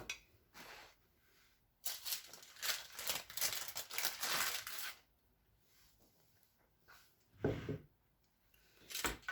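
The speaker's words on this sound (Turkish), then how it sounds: "Şimdi şurada tahtamın üzerinde sizlere getireceğim ve keseceğim." A knife saws through a baguette pide filled with minced meat and kashar cheese on a wooden board, giving bursts of crisp crust crackling and scraping separated by brief pauses.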